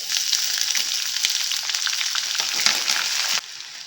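Dry red chillies, curry leaves and chopped onion fry in hot oil, a loud, close, continuous sizzle with occasional crackles and spoon stirring, cutting off abruptly near the end.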